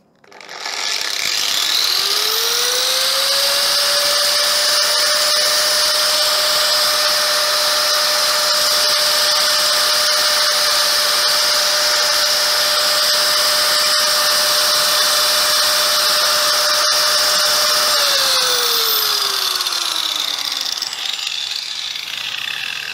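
A Deko 125 mm slim angle grinder, set at 450 watts, ramps up gradually from slow to about 12,000 RPM with a rising whine. It holds a loud, steady high-pitched spin, then winds down at the end.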